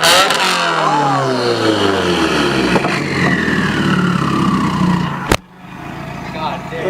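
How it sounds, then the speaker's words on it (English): A 2015+ Subaru WRX with a catless downpipe revs loud and raspy, the pitch sweeping up and down over several seconds before a sharp pop and a drop to a lower idle-like rumble. "Can I rev it?"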